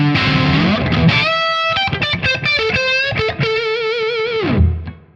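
Electric guitar on the neck pickup through a Tonex OD3 overdrive tone, playing a short phrase of sustained, chorused overdriven chords and single notes that ring out and fade at the end, alone without talk.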